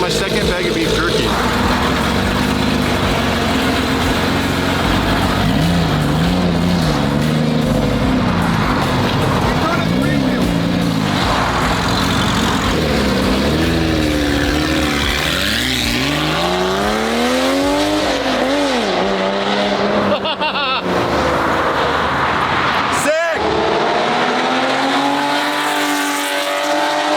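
A newly rebuilt McLaren 720 GTR engine roars on a dyno, climbing and falling through loud sweeping revs for nearly half a minute, with brief cuts and talk mixed in.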